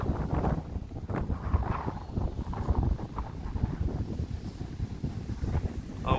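Strong wind on the Araguaia River during a kayak expedition buffets the microphone in gusty, rumbling bursts, continuous and fairly close.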